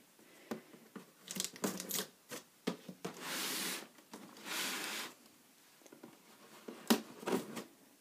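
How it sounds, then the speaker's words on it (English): A cardboard box being cut open across the top, packaging a Hamilton Beach slow cooker, gives quiet scratchy slicing strokes, rustles and a few sharp clicks in irregular bursts close by, with no talk. "So I'm just going to cut it open up on the top here."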